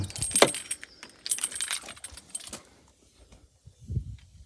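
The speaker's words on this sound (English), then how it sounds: "it has this thing called a key" The key of a Maxus T90EV electric pickup jangles close up in a few bright metallic bursts, then settles into faint clinks and soft handling sounds.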